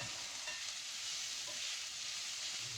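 Onions fry in a pan during Filipino home cooking, producing a steady, fairly faint sizzle with soft stirring movements and no talking.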